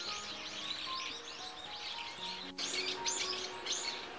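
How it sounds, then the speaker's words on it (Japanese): Dusky thrush calling among a flock of starlings in a wintry field in northern Harima, Hyogo, Japan: repeated thin, high chirps and twittering calls, moderately near, with no talk. "こちらがツグミですね。"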